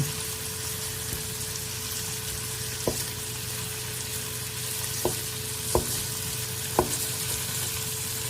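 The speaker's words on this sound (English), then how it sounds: "all I'm really doing here is giving it a little bit of flavor by browning it on the bottom" Onions and peppers browning in a pan give a steady, close sizzle and hiss, with a few faint utensil taps scattered through it and no voices.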